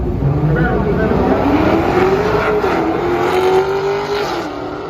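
A Hemi Dodge Charger races an LS Camaro at a drag strip, a loud, steady engine roar rising in pitch as the cars accelerate over several seconds, with no speech.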